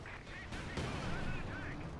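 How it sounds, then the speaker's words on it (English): Heavy cannon blasts from a Tiger tank in Company of Heroes 2, one sharp boom near the start and a louder hit partway through, set among battle noise with a commentator's voice running underneath. "A cannon for Tiger tank lands some great hits on the T-35"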